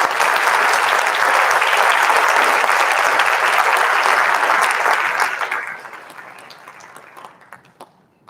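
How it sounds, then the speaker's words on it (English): Loud, dense applause from a school audience for performers at a high school winter band concert, sustained for several seconds before thinning out and fading to a few scattered claps. "one more round of applause for all the performers down there"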